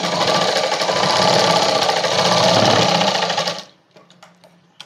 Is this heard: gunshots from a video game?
no